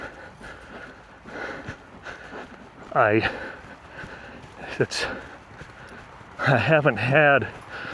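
Young colt loping under a rider, with rhythmic hoofbeats on soft ground in short bursts and someone talking over and between them.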